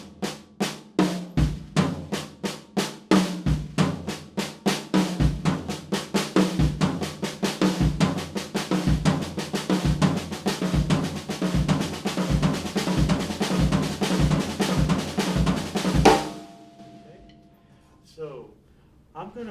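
A drum kit plays a fast triplet lick in a funk groove, using the high tom in the pattern. The loud, evenly spaced strikes run for about sixteen seconds and then stop abruptly, leaving near-silence.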